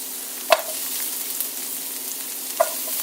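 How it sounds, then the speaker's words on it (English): A steady, soft sizzle of beef frying in a pan, with a couple of sharp clinks of a utensil against the pan. "We're just going to dump that right there into that pan. Let it sizzle a little bit."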